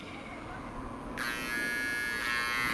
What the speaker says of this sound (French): C'est la première fois que j'essaye d'utiliser le grinder pour ça.